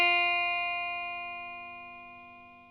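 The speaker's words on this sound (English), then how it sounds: "Sustain means when I press this note and when it goes on for some time" A single sustained note rings out on an instrument, a clean tone with clear overtones that holds steady and fades slowly over a few seconds, alone and fairly quiet.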